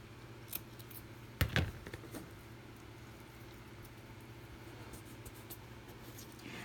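Scissors snipping off excess paper while embellishing a 6x9 gold clasp envelope, a few quiet, crisp cuts with one clearer snip, over a low steady background hum.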